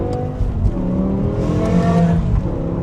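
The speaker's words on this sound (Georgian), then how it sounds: "როგორ შეიძლება არ მოგეწონოს დაუნშიფტის ხმა." BMW M5 with a V10 engine downshifting, a loud close engine note with blips and shifting revs that rise and fall across a few seconds.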